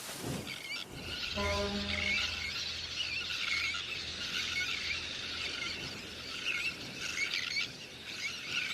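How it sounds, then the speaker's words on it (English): Little terns call across a crowded breeding colony in a dense, continuous wash of high squealing and chirping cries, steady and fairly loud from start to finish, with a brief harmonic low tone early on. "Just beyond the city, colonies of birds are breeding too."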